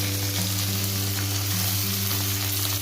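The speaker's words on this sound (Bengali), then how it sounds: "আমি সমস্ত সবজিগুলো আবার একসাথে ভেজে নেব।" Cauliflower, potato, capsicum, beans and chopped carrot fry together in a pan for a veg moong dal, giving a steady, close sizzle throughout with a constant low hum underneath and no talk.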